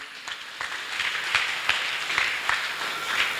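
A church congregation claps in acclaim, a scattered patter of hands with louder individual claps, moderately close and without talk.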